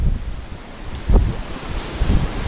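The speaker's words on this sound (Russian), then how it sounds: "В общем, ветер поднялся капитальный, волна на речке." Gusty wind buffets the microphone over a river, with rushing, rumbling bursts and a faint wash of waves.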